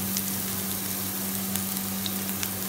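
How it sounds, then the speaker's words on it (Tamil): Onions drop into hot oil in a pan on a low flame, a dense continuous close sizzle with a faint steady hum underneath and a few tiny pops, alone without speech. "ஆயில் நல்லா கொதித்து வந்தோடனே ஒனியனை போடுறோம்"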